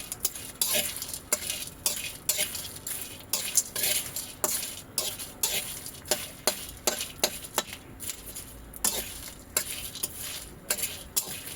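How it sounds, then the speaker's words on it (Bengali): Whole spices (bay leaf, whole garam masala and dried chillies) being dry roasted in a hot kadai, with repeated scraping and stirring strokes of a spatula against the pan over a faint crackle, close and steady. "এবারে আমি এই মশলাগুলোকে একটু রোস্ট করে নেব। তেজপাতা, গোটা গরম মশলা আর শুকনো লঙ্কা।"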